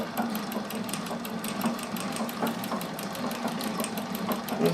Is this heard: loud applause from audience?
no